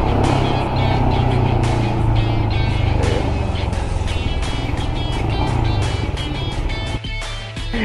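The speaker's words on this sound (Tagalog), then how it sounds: "napaka powerful niya itong motor na to" A Royal Enfield Scram 411 motorcycle cruising on an elevated Skyway, its engine droning loudly and steadily with strong wind rush, and the rider's voice faintly mixed in before the engine note dips near the end.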